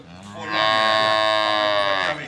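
A buffalo that calved five days earlier gives one long, loud, close moo, swelling and then fading over about two seconds.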